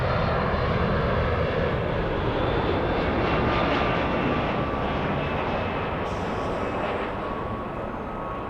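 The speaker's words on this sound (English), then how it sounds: "Let's go over to the next arrival. We have a 757." A Boeing 757 arriving at Los Angeles airport, its broad engine roar loud and steady throughout, slowly easing off toward the end.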